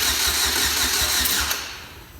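A salvaged race car engine cranks and catches, roaring loud and close with a broadband rush for a second and a half before dropping away.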